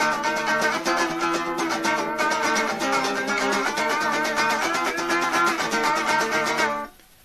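Clean electric guitar with no distortion, played in a steady continuous stream of notes for about seven seconds before stopping abruptly, with no talking.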